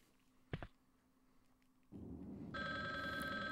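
Phone ringing in the video game Resident Evil: Survivor, starting after a brief thump and low game ambience, then a steady electronic bell-like ring that grows louder and continues to the end.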